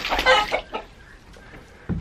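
Backyard chickens and guinea fowl call close by in loud, squawking clucks, in a dense burst at first and then in scattered single calls.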